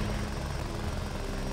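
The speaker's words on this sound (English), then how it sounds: "A last minute attack from his helicopter friend." A helicopter in the mech strategy game Front Mission 4 swoops in to attack, producing a steady, loud rotor and engine drone that holds without a break and plays alone.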